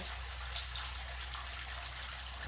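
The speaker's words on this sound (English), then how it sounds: "It's just a seepage in the rock." Water seeping and trickling out of rock near a small cave in Kentucky, a steady soft wash of flowing water with no voices.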